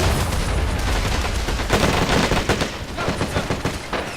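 Rapid sustained gunfire and explosions aimed at a Japanese 47 mm gun in the Men of War: Assault Squad 2 video game, loud dense bursts of shots with booms underneath, no talking.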